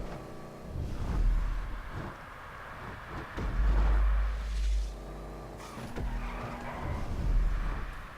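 A car in a GTA V city-circuit street race slides sideways, its tires squealing in several drawn-out bursts over a revving, shifting engine. The car sounds close and moderately loud, and no one speaks.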